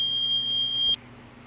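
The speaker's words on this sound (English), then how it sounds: "The smoke alarm's been going off all day long." Household smoke detector sounding a single continuous high-pitched electronic beep that cuts off abruptly just under a second in, loud and near, leaving a faint room hum.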